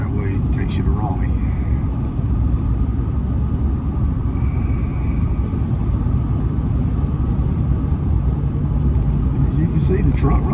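A new diesel truck cruises along US 1 highway, a steady low engine and road rumble filling the cabin throughout, close and continuous with no pauses.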